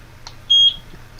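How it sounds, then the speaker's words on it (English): A EufyCam 3 wireless outdoor security camera gives a single short, clear electronic sync beep, steady in pitch and held for a brief moment against a quiet room. "press the sync button until you hear the beep"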